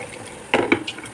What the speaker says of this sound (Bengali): এবার ভালো করে হাতা দিয়ে নাড়িয়ে মেশাতে হবে আমাকে